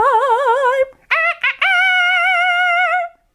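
A rooster crows in two long, wavering calls split by a few short choppy bursts, loud and close, with no talk over it.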